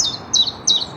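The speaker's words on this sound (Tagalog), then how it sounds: "Ang ibon lang maririnig mo dito sa umuulan ng bukid." Birds chirp in the rainy countryside by a farm field with a large tree, three bright repeated high call bursts spaced evenly over light rain-like background hiss, with no talking.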